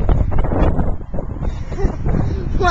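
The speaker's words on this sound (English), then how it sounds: "The wind is super strong out here." Strong, gusty wind roars across the microphone outdoors, a constant loud buffeting with rumbling low end and shifting whooshes throughout, while someone speaks briefly underneath.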